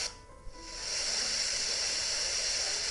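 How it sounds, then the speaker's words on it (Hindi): Broadband FM radio static from Bluetooth headphones with a built-in radio while channels are tuned, a steady loud hiss that swells after a brief quieter start and holds evenly to the end. "चैनल को कोई ट्यून करने की कोशिश करते हैं"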